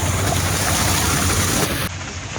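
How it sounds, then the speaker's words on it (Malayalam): A boat ride at a water park, carrying a steady broadband rush of water and wind noise that stays loud throughout and drops slightly near the end, with no voices. "നമ്മള് ബോട്ട് റൈഡിങ്ങിന് പോവാ"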